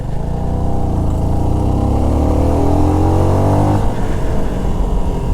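A Kawasaki-style NK250 motorcycle engine heard from the saddle while riding at dusk, a loud, steady droning roar that climbs in pitch as the rider accelerates, then drops as the bike shifts gear.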